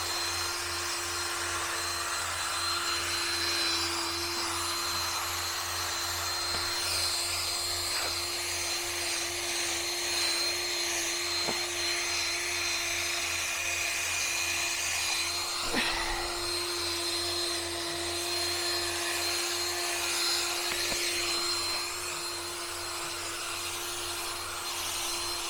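Medium-bristle power brush scrubbing dirt off a car tire, a steady motor drone with a continuous abrasive rubbing hiss and occasional brief knocks, heard alone and fairly close.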